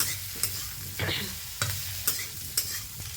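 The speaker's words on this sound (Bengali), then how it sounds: "সবজিগুলো দিয়ে একটু নাড়বো দেবো।" Vegetables for a spinach (palong shak) recipe are stirred in a hot pan, giving a steady soft sizzle broken by several sharp scraping strokes of the spatula at regular intervals, close and clear with no talking.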